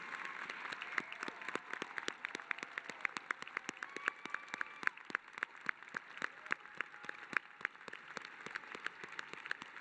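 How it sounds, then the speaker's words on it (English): Steady applause from a graduation-ceremony audience at Ida B. Wells High School for seniors earning cords, medallions and sashes; dense, continuous clapping of moderate loudness throughout, with no talk over it. "let's give a big round of applause to all of the seniors who earned a special cord, medallion, or sash"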